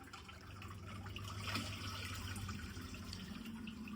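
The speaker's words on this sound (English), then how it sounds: "I'm going to put this first jug of chlorinated water in here." A jug of chlorinated water is poured gently into a home aquarium, giving a steady, soft splashing and trickling that swells slightly midway and continues throughout.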